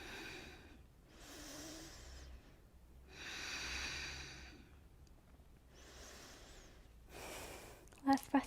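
Slow, soft breaths come in long, even inhales and exhales during a full-body morning yoga stretch, faint and close with quiet pauses between each cycle.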